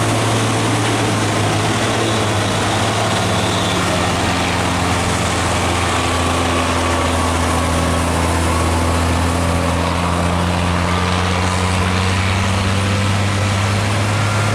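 An old Nissan Diesel truck engine idles with a steady, deep, loud rumble throughout, with no voices over it.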